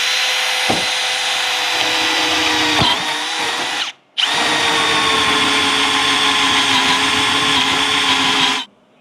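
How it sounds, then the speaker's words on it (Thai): A power drill with a hole saw bit cuts through aluminium in a loud, steady whine that stops briefly midway and then runs on before cutting out near the end. "เดี๋ยวเราเจาะกันอีกรูนะครับ งานอลูมิเนียมได้เลยนะครับ"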